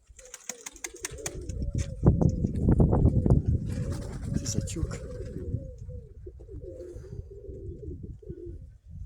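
Pigeons in a loft coo steadily up close, their soft repeated calls alongside a voice and some shuffling and fluttering movement.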